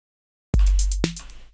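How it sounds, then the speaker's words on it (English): On a Roland TR-808, a hissing open hi-hat rings over a deep kick, then gets abruptly choked by a short closed hi-hat tick about half a second later; one short, loud, close pattern with no talking. "If you have a closed hi-hat underneath an open hi-hat, it doesn't allow the open hi-hat to fully play."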